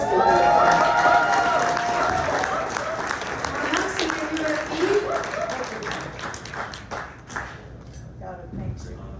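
An audience at a Good Morning Corona community breakfast bursts into warm applause, dense clapping and some cheering that gradually thins out into scattered claps, with a voice speaking over the tail end.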